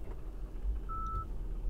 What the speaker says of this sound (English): there you heard that the chime only came when I started to back out with my car